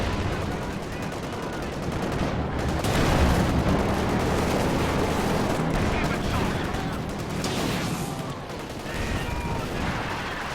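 Mortar fire and dense battle noise from the video game Company of Heroes 2, a loud continuous barrage of gunfire and explosions with a voice faintly underneath.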